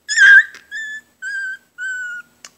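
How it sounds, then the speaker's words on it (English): High, thin howls and whines of 19-day-old puppies, a yelping cry followed by three drawn-out wavering notes, close up with a brief click at the end. "You're making the other babies howl."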